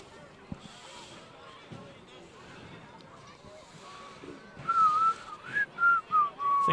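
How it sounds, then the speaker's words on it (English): A referee's whistle at a 2016 Wheelersburg at Nelsonville football game sounds several sharp blasts in quick succession near the end, over wind and faint crowd murmur, with voices talking earlier. "Well, we got a whistle"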